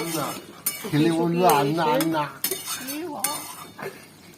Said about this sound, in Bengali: খুলে দেওয়ার পরে এটাকে আবার একটু একটু নেড়ে দেবো